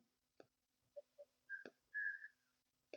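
Short, faint whistle tones sound in a quiet indoor gathering: a few brief chirps followed by a longer sustained note, with soft clicks and knocks between them.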